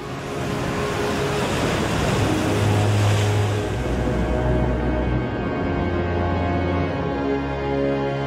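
Rough surf churns against a breakwater on the west coast of South Africa, a dense, continuous roar of breaking and rushing water that swells slightly midway.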